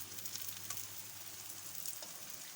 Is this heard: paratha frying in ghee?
yes